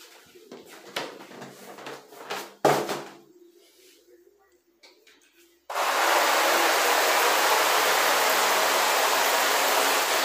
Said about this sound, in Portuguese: enquanto a piscina tá enchendo ali